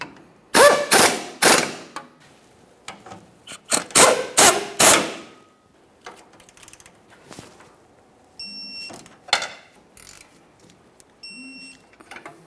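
A ratchet snugs the rear shock absorber bolts on a 2004-2008 Ford F-150 5.4L V8, heard as bursts of sharp, close metallic clicks in quick runs, then quieter clinks and brief tool sounds.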